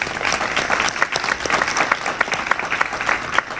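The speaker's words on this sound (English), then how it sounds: "we need to give them a round of applause" Applause from a town hall audience for health professionals, a dense steady patter of many hands clapping throughout at close range, with no talk over it.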